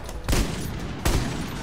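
Two loud, booming sniper rifle shots in the video game Army of Two: The Devil's Cartel, spaced under a second apart, each with a sharp crack and a rumbling tail over steady background noise.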